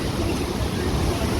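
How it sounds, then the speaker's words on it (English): Heavy rushing water at Vernal Falls on the John Muir Trail in Yosemite, a steady broadband roar close by with wind mixed in, continuous and unbroken. "there's a lot of volume of water that comes down through here"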